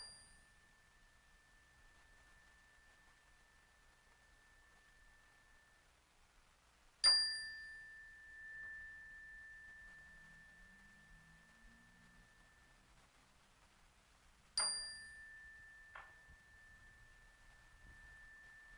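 A small bell rung during a children's mindful play exercise: two clear single dings several seconds apart, each leaving a long, faint, pure ringing tone that fades slowly in a quiet room.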